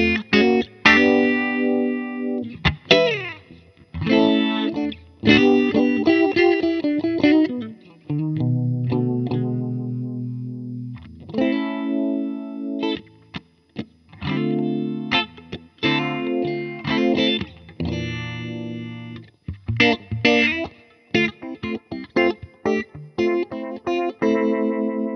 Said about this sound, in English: the old Dunlop Univibe, famously used by Jimi Hendrix,